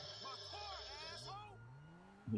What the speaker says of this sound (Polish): Oho, teraz przydaje się auto do drifteru.